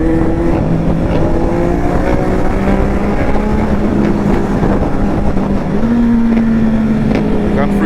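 A Yamaha Tenere 700 motorcycle rides at high speed through traffic, its engine droning loud and close under heavy wind rush, with the pitch shifting as it changes gear.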